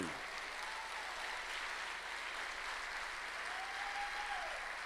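A church congregation claps continuously, a sustained roomful of applause at steady volume with no talking over it.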